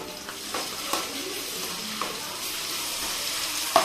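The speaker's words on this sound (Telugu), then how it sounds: "ఇప్పుడు ఇవి ఎర్రగడ్డ అనేది బాగా ఎర్రగా వేగాలి." Onions and chillies frying in a pan for a masala tomato curry, a steady close sizzle with a few sharp stirring clicks, and no voices.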